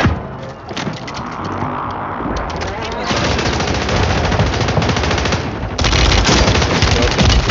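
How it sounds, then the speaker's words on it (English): Sustained automatic gunfire in a Rebirth Island match, dense rapid bursts and loud cracks layered over one another throughout, growing heavier partway through, with a voice talking underneath. "Getting shot at by a completely different team."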